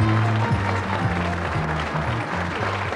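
A studio audience applauds steadily for contestant Jolanda on a 1980s Dutch TV game show. The clapping is dense and sustained, with a sliding musical tune playing over it.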